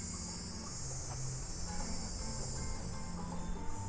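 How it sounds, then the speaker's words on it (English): Cicadas drone steadily outdoors in a continuous high hiss that stays loud and even throughout, with a low rumble of background activity and faint distant music underneath. "Lots of bugs too, you can hear them. Cicada sound out here."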